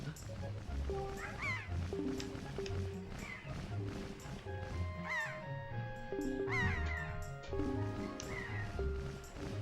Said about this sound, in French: Avec les mouettes.